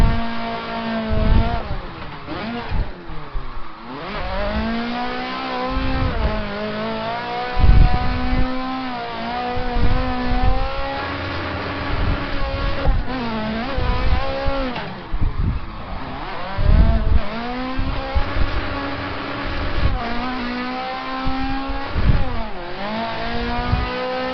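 A drifting car in the Assetto Corsa racing game at Meihan, with worn tires, revs loudly and continuously as the engine rises and falls through repeated throttle swells, with tire noise underneath and no talking.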